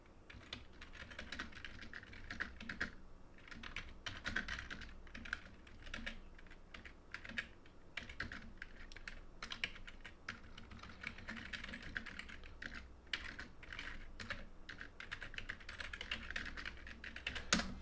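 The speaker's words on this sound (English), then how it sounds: "I need to type something in on YouTube here." Steady typing on a computer keyboard throughout, a dense run of quick key taps with brief pauses, close and fairly quiet, no talk over it.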